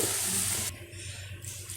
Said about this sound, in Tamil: பாருங்கள், இப்போ 1 கப்பு பால் ஊற்றுறேன்.